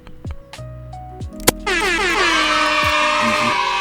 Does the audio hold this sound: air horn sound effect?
yes